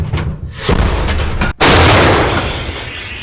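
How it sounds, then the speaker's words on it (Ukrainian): A single loud, sharp artillery gun blast firing a shell erupts after a brief silent gap, booming across the full range and then rolling away slowly, with noisy rumble before it. "Один снаряд, вогонь! Гармата! Постріл!"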